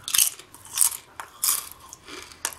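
Crunchy Cool Ranch and Nacho Cheese Doritos are bitten and chewed close to the mic, with four sharp crunches spaced about every half second to second and quiet pauses in between.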